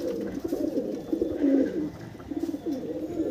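Breeding pigeons with eggs and chicks coo close by in a series of loud, throaty rolling calls, rising and falling in short bursts with one stronger coo in the middle and no talking.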